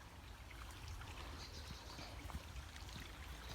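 A small brook on the Arran trail near Staffa Crescent flows softly past, giving a faint, steady trickle and babble of water with no voices over it.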